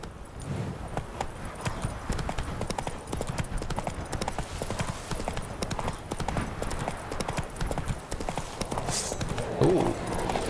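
Horse hooves clip-clop at a steady galloping rhythm through the whole stretch in The Witcher 3, loud and close over continuous game ambience, with a brief snort or whinny near the end.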